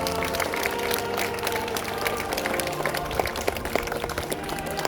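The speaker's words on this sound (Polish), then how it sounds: "Wielkie jeszcze brawa" A crowd applauds at a costumed historical visit event, sustained clapping with a busy mix of voices and background music underneath, steady and fairly loud for the whole stretch.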